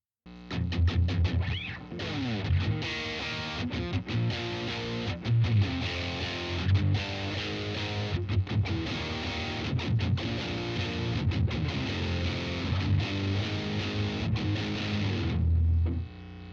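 A distorted electric guitar through an Electro-Harmonix POG2 octave pedal, with a thick octave-down layer, plays riffs and chords continuously, loud and fuzzy, ending with a sustained note.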